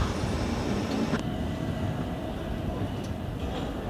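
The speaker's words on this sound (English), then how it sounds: "The train now approaching platform 11 is the 1515 Southwest train service to Hampton Court." A South West Trains service approaches a station platform with a broad, steady rumble and rushing noise that fills the whole stretch, with faint station announcements in the background.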